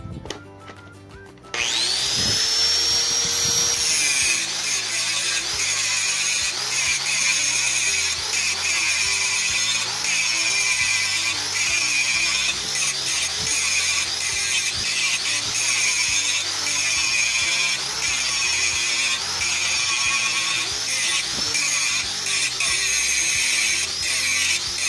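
An angle grinder grinds a bevel onto a steel flat bar, a loud, continuous high-pitched whine with harsh grinding noise that starts after a brief moment and holds steady for the rest of the clip, with no talking.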